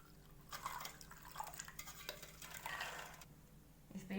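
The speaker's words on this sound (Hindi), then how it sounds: "और इसे भी हम अच्छे से वॉश कर लेंगे।" Chickpeas being washed for sprouting, with water sloshing and grains stirred and swirled by hand in a bowl in a few bursts, close and fairly soft, with no talking.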